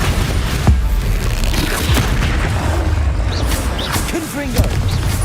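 Bombarda blasting spell detonating in the game Hogwarts Legacy, a loud booming burst amid a dense barrage of other spell blasts and crashes, with a voice calling out spell names over the chaos.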